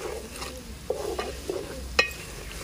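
Potato fry seasoned with salt and spices gets stirred in a pan, a few clear scraping strokes and spoon taps over a faint continuous sizzle, close and brief.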